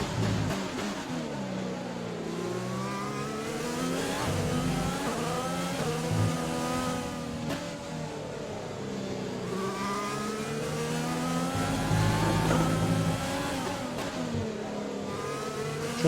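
A Formula 1 race car in F1 2020 accelerates hard through the gears, its high-pitched engine whine rising and falling in repeated sweeps with steady, loud continuous drive and no talk.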